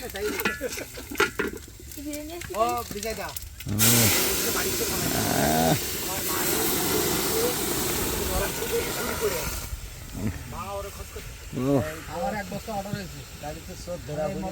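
Hot oil tempering for dal sizzles and hisses loudly in a home kitchen in a Sundarbans settlement, a steady frying burst running through the middle with people talking before and after.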